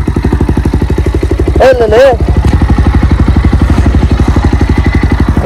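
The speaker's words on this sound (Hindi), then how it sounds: "नीचे बाइक ले जा रहा है" A motorcycle engine runs with a fast, even idle-like thump as the bike is taken down a slope, loud and close, with a man briefly calling out partway through.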